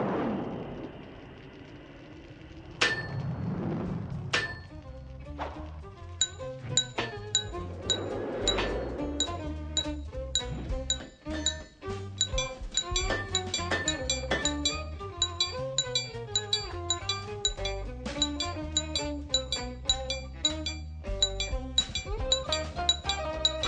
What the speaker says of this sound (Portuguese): O martelo do ferreiro.